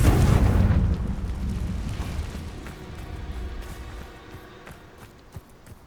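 A Confringo fire spell bursts in Hogwarts Legacy with a loud, deep boom at the start, then a long rumbling decay that fades over several seconds, with faint game sounds after it.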